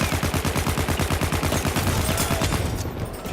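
Rapid automatic gunfire from a weapon in the shooter game Battlefield 1, a steady burst of evenly spaced shots firing close and loud for about three seconds before tapering off, with no talk.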